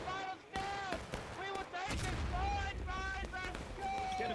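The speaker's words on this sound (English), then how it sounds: "They're just gonna sit and shoot them down from a distance." Musket volleys crackle at a distance across a video game battlefield between Union and Confederate lines, with repeated booming shots overlapping under constant voice chatter.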